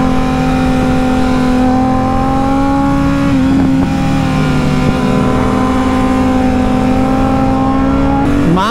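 A Kawasaki Z800 or Yamaha R6 motorcycle accelerating on a track, a loud, close, sustained engine whine rising steadily in pitch with a brief gear change near the end, no talk over it.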